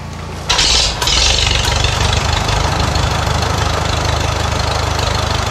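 A Farmall tractor engine cold-starts with a brief cranking burst, then catches and settles into a loud, steady, throbbing idle close by.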